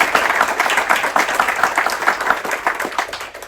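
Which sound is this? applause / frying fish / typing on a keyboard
applause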